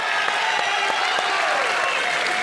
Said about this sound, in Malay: Apa kata kita berikan tepukan kepada kedua-dua YB yang hadir ini?